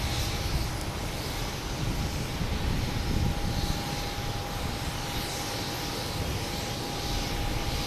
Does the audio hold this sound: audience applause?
no